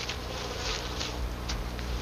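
Dense, steady buzzing of a swarm of killer bees from a 1995 film, a continuous insect drone that stays loud and close throughout with no voices.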